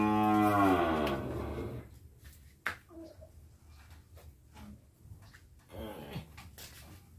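Cattle on a farm in Tra Vinh, Vietnam, including cows with a calf and a young bull, give a long loud moo up close, followed by quieter rustling, a knock and another shorter moo.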